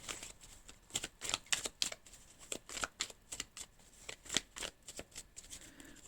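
Oracle cards for a reading are shuffled in close, uneven bursts of papery slaps and flicks that rise and fall in loudness, with no voice over them.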